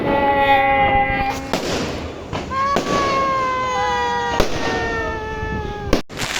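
New Year's Eve fireworks bursting in the distance amid excited shouting and cheering voices, several dull booms and crackles under the lively crowd noise.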